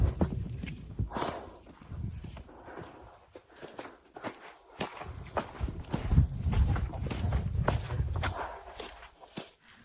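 Several horses, around four to six led together near stables, walk with soft irregular hoof thuds on the ground, close by and steady, with faint breathing and rustling between steps.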